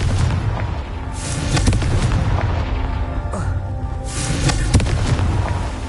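The Confringo explosive spell in Hogwarts Legacy, with dense booming blasts and rumbling impacts filling the clip loudly and continuously, several heavier bursts standing out.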